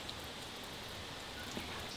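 Steady rain falls outside a tent at Gyorae Natural Recreation Forest, a continuous soft hiss of drops on the fabric with no voices.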